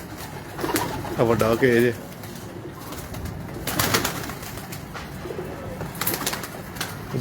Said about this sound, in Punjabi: ਇਹ ਮੇਨ ਕੇਜ ਇਹਨਾਂ ਦਾ ਬਰੀਡਰ ਕਬੂਤਰਾਂ ਦਾ